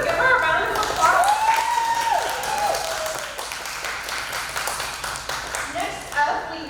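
An audience at a pinup contest claps steadily, with whoops and a loud cheering voice over the clapping early on, then the applause fades gradually.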